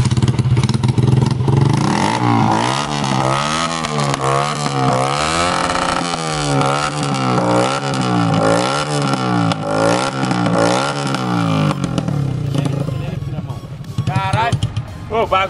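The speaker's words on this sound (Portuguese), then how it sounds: "agora é hora de testar ela com o escape só o cano. Eu quero ver se vai fazer barulho" A Yamaha XJ motorcycle with a raw straight-pipe exhaust revs repeatedly up close, loud rhythmic throttle blips and roars, with a brief shout at the start.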